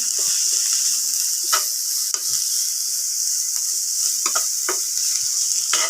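Bamboo shoots and celery are stirred in a frying pan, giving a continuous bright sizzle with intermittent scraping and clacking strokes from the utensil against the pan.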